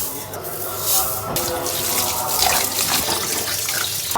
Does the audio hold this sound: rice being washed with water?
yes